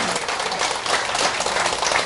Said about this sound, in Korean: 그러니까 세종대왕을 위해서 박수 한번